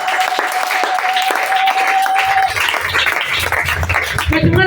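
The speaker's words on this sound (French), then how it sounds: "On peut acclamer le Dieu." A church congregation claps loudly to acclaim God during a pastor's service. Continuous applause is mixed with voices, and a sustained tone runs underneath.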